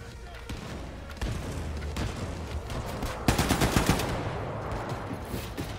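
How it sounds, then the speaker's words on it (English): Grenade blasts in a video game firefight, a series of sharp booms and crackling bursts around the middle, loud and close over steady battle noise, with faint talk in places. "I'm gonna toss a few grenades out there."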